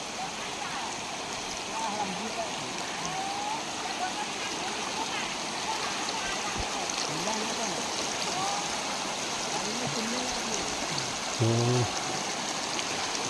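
River water flows steadily where villagers pan for gold on the Repakeng river, a constant broadband rush with light splashes, while a voice talks faintly over it.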